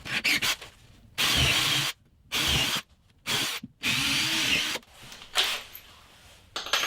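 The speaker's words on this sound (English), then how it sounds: "Once they're drilled, quick countersink." A power drill bores holes into wood for a storage rack. Several loud, sustained whirring bursts are separated by short silences, with one weaker burst near the end.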